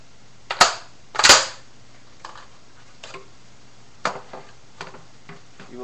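Plastic clips on an Xbox 360 casing popping off with two sharp, loud snaps close together, followed by fainter clicks and ticks from the shell being pried apart.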